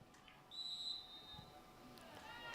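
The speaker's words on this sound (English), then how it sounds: "We get another whistle right in the area." Referee's whistle blast at a high school field hockey game, a single sustained shrill tone of about half a second to a second over low crowd and field ambience.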